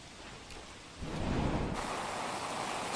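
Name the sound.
heavy rain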